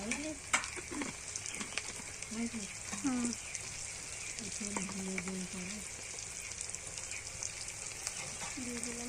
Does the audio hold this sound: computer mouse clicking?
no